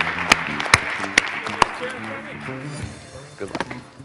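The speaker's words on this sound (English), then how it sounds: "Let's give him a big round of applause." Audience applause at a marketing awards event, with a few sharp, loud claps standing out near the start before the clapping thins. A voice talks over it.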